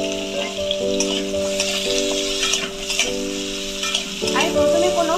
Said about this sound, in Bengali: তেলটা আমার গরম হয়ে গেছে। এবার আমি আলু আর সজনে ডাঁটাটা তুলে দিলাম।